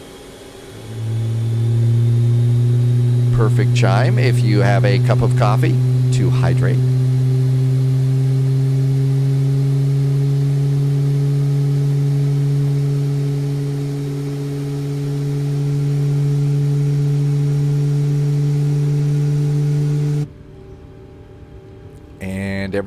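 Engine number 1 of a simulated Boeing 737 MAX spools up into a loud, steady whine that builds and holds for about twenty seconds before cutting off, with a brief spoken phrase over it near the start.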